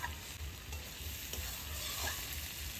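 Garlic fries in a pan for chilli chicken paneer, giving a soft, continuous sizzle with faint stirring scrapes, quiet and close with no talking.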